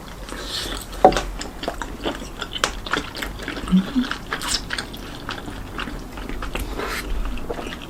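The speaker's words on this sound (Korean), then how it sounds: "떡볶이를 먹어봐야지" Close-up chewing and biting of spicy emergency-room-style tteokbokki rice cakes with chicken feet: soft, wet, irregular mouth sounds and small chomps, recorded very near with no talking.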